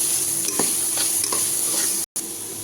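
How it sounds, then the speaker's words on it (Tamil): Ginger garlic paste sautéing in a pan, a steady sizzle with a few scraping stirs of a spoon, close up, briefly cut to silence near the end. "இஞ்சி பூண்டு பேஸ்ட்டு வாசனை போகிற வரைக்கும் நல்லா வணக்கணும் ஃப்ரெண்ட்ஸ்."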